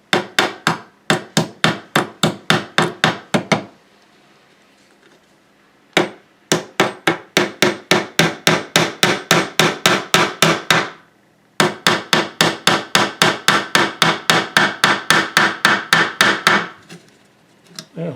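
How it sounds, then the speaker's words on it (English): A screwdriver pounds pegs into driftwood in three long runs of rapid, evenly spaced sharp knocks, close and loud, separated by brief pauses, with no talking. "so I'm going to pound these in with a screwdriver."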